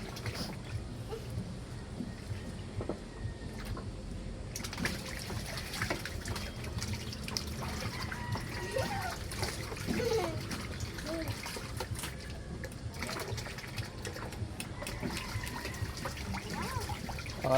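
Water splashing and trickling as someone bathes outdoors on a hot summer day, a steady wet sloshing with intermittent drips and splatters running throughout, mixed with background voices talking.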